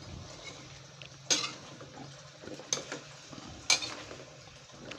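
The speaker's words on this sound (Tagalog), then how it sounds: "Pagkalagay ng carrots at patatas, haluin natin" Carrots and potatoes stirred in a pot of spicy chicken kaldereta, with a soft sizzle underneath and three sharp clinks of a utensil against the pot, close and quiet.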